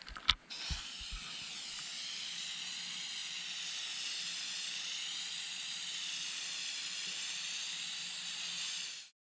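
Automotive-grade aerosol acrylic enamel spray paint hissing from the can in one long, steady burst after a few quick clicks and knocks, close and fairly loud, ending abruptly.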